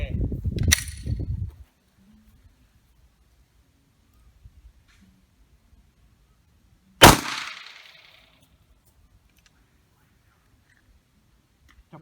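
A single sharp, loud pistol shot test-firing Sellier and Bellot JHP 115 grain ammunition at three meters, with a short ringing decay, preceded by brief talk and otherwise near silence.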